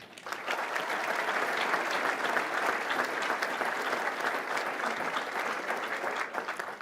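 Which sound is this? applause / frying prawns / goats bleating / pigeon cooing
applause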